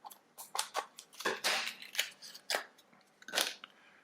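Scissors snip and crunch through the plastic packaging of a stationery item, giving a run of sharp, close cutting and crinkling bursts at an uneven rhythm with no voices.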